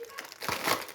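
White paper crinkles and rustles in close, busy bursts while someone cooks spicy food in a home kitchen.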